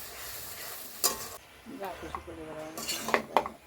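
Ginger, chili and garlic paste frying with jackfruit in a pan, a soft steady sizzle broken by a few sharp stirring scrapes and clinks of a utensil against the pot, with a brief voice-like tonal sound in the middle.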